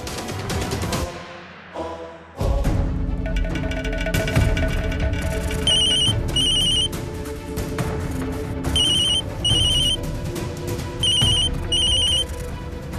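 A telephone rings in repeated, evenly spaced bursts of a bright electronic ringtone over a dramatic background music score, fairly clear and prominent, with no talking.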